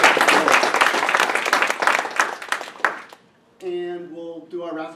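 An audience gives a big round of applause welcoming someone to teach a class at a blockchain event. The loud crowd clapping fades out after about three seconds, and then a voice begins speaking.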